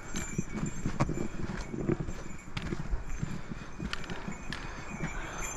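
Hooves clip-clopping on a rocky Himalayan trail near Ama Dablam base camp, an irregular plodding rhythm of horses walking downhill close by, with faint outdoor rustle around.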